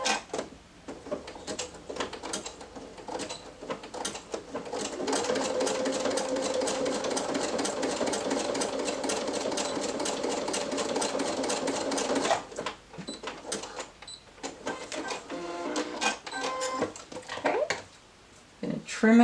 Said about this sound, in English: I'm going to throw a zigzag stitch across this one